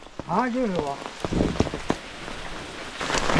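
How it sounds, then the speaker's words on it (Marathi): Heavy, intensifying rain falls steadily in a soft background hiss in a Konkan village while a person talks briefly over it. "पाऊस बघा आता परत जोर वाढला इथे पोचता पोचता पावसाचा जोर वाढलेला आहे"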